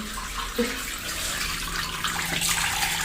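Water pours and splashes steadily as it drains out of a 7 kg mini washing machine, a continuous rushing flow heard up close with no talking.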